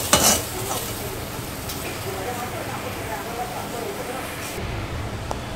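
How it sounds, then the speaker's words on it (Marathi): Okra sautés in a pan for a masala bhindi dish, making a steady moderate sizzle with stirring, and a faint voice is heard at times. "इथे मी भेंडी टाकून घेतले आणि त्याला मी थोडंसं सॉटे करते"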